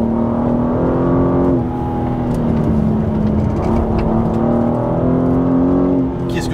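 BMW M3 CS G80 2023 engine pulling under light throttle, a steady close-up drone whose pitch rises and holds, with a brief shift near the middle and continuous mechanical whir; no talking.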